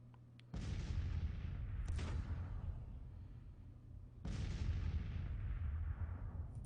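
Artillery fire in the Civil War strategy game Grand Tactician, two heavy booming salvos roughly four seconds apart, each followed by a long rumbling decay, loud and without speech.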